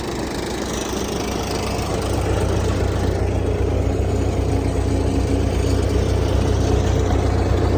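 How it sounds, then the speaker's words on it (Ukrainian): An MTZ-50 tractor towing a trailer runs at full throttle, its engine rising in the first couple of seconds to a loud, steady, close roar that holds unbroken with no talk. "Трактор МТЗ-50 на максималках."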